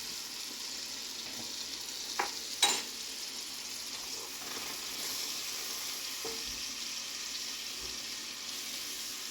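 Garlic sizzling gently in a pan while being stirred, a faint steady frying hiss with a couple of brief utensil clicks and scrapes, heard close without talk.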